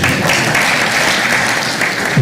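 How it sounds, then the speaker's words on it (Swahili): A seated audience at a savings cooperative workshop applauds, a steady dense burst of clapping from many hands filling the room for a couple of seconds. "Jipatieni makofi."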